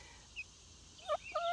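A young chick gives a few short, thin peeps, faint and close, with quiet pauses between them and no other sounds around.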